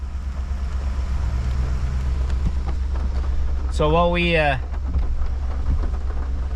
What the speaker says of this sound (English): Look at the rain, look at it fall.